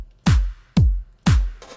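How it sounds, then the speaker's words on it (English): Electronic melodic house drum loop with an 808 clap and no percussion layer: punchy, booming kick-like hits with snappy tops land in a steady, even rhythm, loud and alone. "Okay, so we have the whole drum loop without the percussion."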